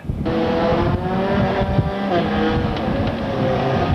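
Field of 4-cylinder stock race cars, including a Ford, roaring past on an oval track in 1998, loud and close with engines revving and shifting in overlapping waves, no talk.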